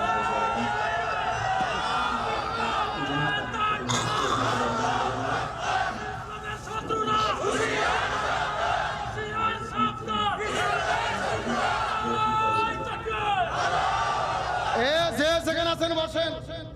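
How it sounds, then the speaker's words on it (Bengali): A crowd at a religious sermon shouts the takbir chant, many voices rising together in repeated loud bursts that swell and fade across the stretch. "দেখি তাকবীর দেন তো দেখি।"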